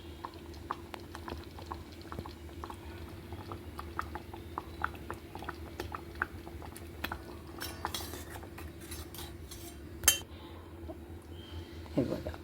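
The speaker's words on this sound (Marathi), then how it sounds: "हा भाजी शिजतानाचा रटरट आवाज येतो आणि उडायला लागते भाजी अशी बाजूला गॅसवर." A vegetable curry cooks on a gas stove, bubbling and spattering in scattered soft pops and light clicks over a low steady hum, with a sharper burst of spatter near the end.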